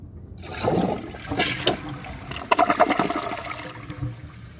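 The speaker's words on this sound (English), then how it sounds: "I'll show you guys a flush, and then let's see how it does on tests." A 2012 Toto Drake toilet flushes up close, a rushing swirl of water that builds and gurgles for a few seconds before easing into a trickling refill.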